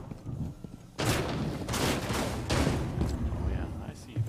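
Enemy gunfire in a Rainbow Six Siege heist mode comes as several bursts of loud shots over about three seconds, with rough, rattling echoes between them.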